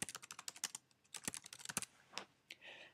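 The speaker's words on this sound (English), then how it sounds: "I'm going to type in hello people." Light clicking keystrokes on a Mac computer keyboard, a quick irregular run of taps with a few pauses, close and fairly quiet with no talking.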